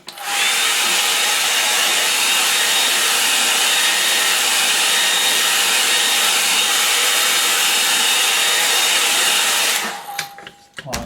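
Hair dryer blowing steadily on a wet watercolour landscape painting, a loud continuous whirring hiss for about ten seconds before switching off near the end.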